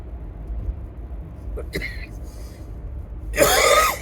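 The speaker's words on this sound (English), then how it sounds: "I think I've got a cough." Two quick throat-clearing coughs over a low rumbling background, then a short louder burst of noise near the end.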